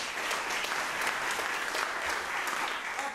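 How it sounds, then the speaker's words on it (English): An audience claps for the musicians of a jazz camp ensemble, a full, sustained round of applause from many hands at a university jazz camp concert, loud and continuous throughout. "give a round of applause before we play our last number to Ian on tenor saxophone"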